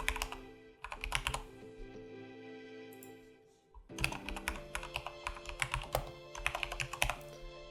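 Someone types on a computer keyboard in quick bursts of close, crisp key clicks, broken by a brief pause before a longer run of keystrokes resumes.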